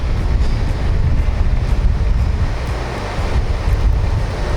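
Sea waves and wind at an offshore platform, a steady broadband roar of surf with gusting wind buffeting the microphone throughout, loud and continuous with no voices.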